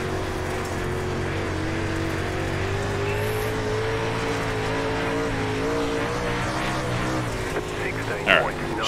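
Dirt late model race car engines at Volusia Speedway Park in iRacing roar steadily with a rising, wavering pitch, and a voice talks over the engine noise.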